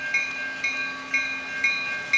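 An ex-Conrail SD60M locomotive leading a passing NS freight train sounds its multi-tone horn in sustained chords, mixed with rhythmic, repeating rail clatter at a moderate distance.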